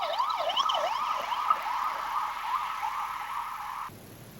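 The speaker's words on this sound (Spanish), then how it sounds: "Sirenas, oímos sirenas todo el tiempo" Emergency vehicle sirens wail along a Madrid street, a loud, steady up-and-down cycling tone that carries alone without voices before cutting off abruptly near the end.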